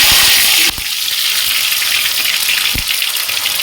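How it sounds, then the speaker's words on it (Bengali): Bay leaf, whole garam masala and tomato hit hot oil with a loud, steady sizzle, a sharp burst near the start settling into continuous crackling frying with a few stirring knocks, no talking. "তেল গরম হয়ে গেছে, ফোড়ন দিচ্ছি তেজপাতা, আস্ত গরম মশলা, টমেটো দিলাম"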